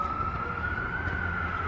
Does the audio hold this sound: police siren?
yes